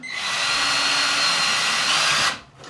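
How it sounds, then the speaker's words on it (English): A power drill boring a 4mm hole 14mm deep into a guitar neck for a Jaguar/Jazzmaster-style build, a loud steady high whine lasting about two seconds before stopping abruptly, close and alone. "I need to drill the right depth and the right width holes in the neck, which I'm going to put with a 4mm bit"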